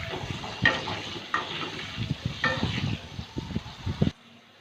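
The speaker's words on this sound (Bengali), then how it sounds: "এবার আলুটা ভেজে নেব।" Potatoes seasoned with a little turmeric and salt frying in oil in a pan, a steady close sizzle broken by several sharp stirring scrapes and clinks, cutting off abruptly near the end.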